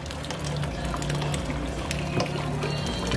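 Hot boiled water is poured in a steady, loud splashing stream for a few seconds, close by and without talk.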